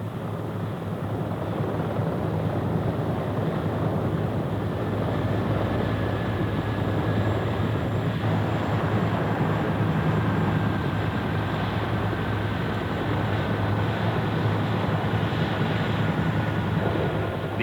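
Steady, continuous rotor and engine drone of US 7th Fleet naval helicopters during an embassy evacuation airlift, loud and unbroken throughout, with a low rumbling hum and no voices.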